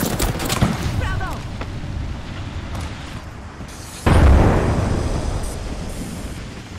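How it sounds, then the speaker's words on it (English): A thermite grenade goes off in the game Apex Legends with a sudden loud, low blast and a roaring burn that trails off. It follows a stretch of gameplay noise and nearby talking. "Throwing thermite grenade."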